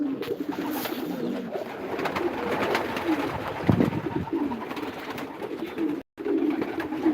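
Pigeons coo in a loft on a pigeon farm, repeated low throaty calls close by in a steady flock, with a brief dropout near the end and no talking.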